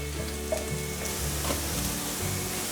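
Carrot, mushrooms and enoki stir-frying in hot oil, a steady close sizzle with scraping stirs and small spatula knocks throughout.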